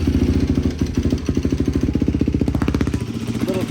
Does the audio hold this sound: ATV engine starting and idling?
yes